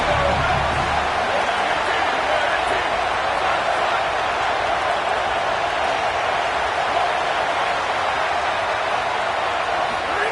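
Steady broadband roar of a stadium crowd cheering on the defense during a college football game, loud and unbroken for the whole stretch with no clear voices standing out.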